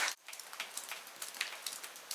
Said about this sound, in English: There's hail coming through the cracks in this cave now.